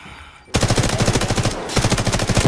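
Loud, close automatic gunfire from a video game, beginning abruptly after a quiet moment and continuing as a fast, steady stream of shots with a short break partway through.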